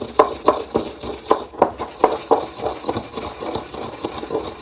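Herbs ground by hand in a mortar and pestle for a hoodoo money powder, a steady run of close, crisp knocking and scraping strokes at a fairly even rhythm, with no voices.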